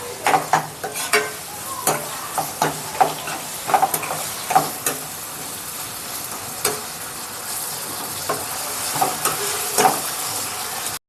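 Ginger paste fries in a pan for mutton bagara rice, with a constant sizzle punctuated by frequent sharp scrapes and taps of a spatula, loud and close.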